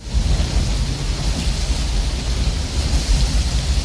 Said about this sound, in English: They're going behind the waterfall.